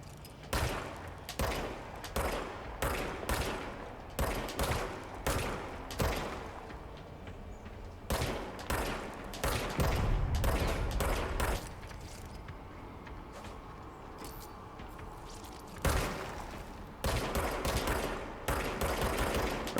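Rapid gunfire in the video game Control comes in fast repeated bursts of sharp shots, loud and close. Several short clusters are separated by brief pauses, and a rumbling lull in the middle is followed by more volleys.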